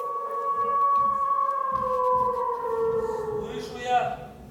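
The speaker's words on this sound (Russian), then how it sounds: "Слышу я вой волка" A long wavering wolf-like howl with rising and falling pitch carries over a rhythmic background of hoofbeat-like thuds, ending in a brief louder swell.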